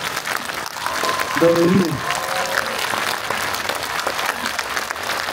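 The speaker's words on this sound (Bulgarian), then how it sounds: "да изпратиме Кирил Маричков с ръце вдигнати горе, с ръкопляскания" Crowd applause sends off Kiril Marichkov in a standing farewell, steady clapping filling the space throughout with a voice briefly speaking over it.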